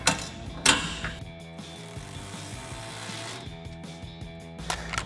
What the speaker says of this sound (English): then we can switch to our 10mm socket to get the nut at the bottom here